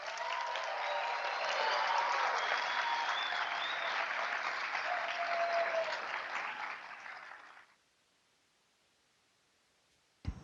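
A large audience of University of New Mexico students applauds astronaut Christina Koch during an Expedition 61 inflight event, a dense, steady clapping that lasts about seven seconds before quickly dying away into silence.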